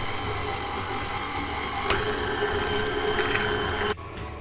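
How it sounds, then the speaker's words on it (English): A KitchenAid stand mixer beating cupcake batter hums with a steady, dense whir that holds evenly for several seconds, near and loud, then drops off abruptly near the end. "I'm using my KitchenAid, obviously you can use a hand mixer."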